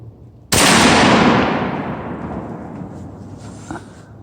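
A single loud, close gunshot from a .50 caliber CVA Optima muzzleloader rifle fired at a deer while hunting, a sharp blast followed by a long rumbling echo that fades over several seconds.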